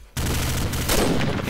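Rapid bursts of automatic gunfire in the online shooter Warhead during an official competitive match, loud and continuous after a brief quiet start, dense and close.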